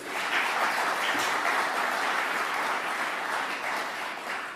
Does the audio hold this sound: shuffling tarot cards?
no